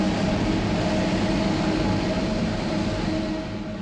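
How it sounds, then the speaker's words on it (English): A crowded monorail train runs on the circuit around the main grounds of Expo in 1971, a steady, loud rolling rumble with a faint whine that fades slightly toward the end, no voices. "A free monorail skirts the perimeter of the main area."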